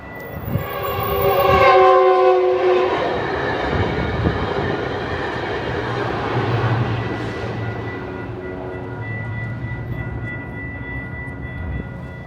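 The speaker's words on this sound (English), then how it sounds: "Here comes the train." A train rumbles past nearby with its horn blaring in sustained, loud tones early on, then fades into a steady rolling clatter as the cars go by.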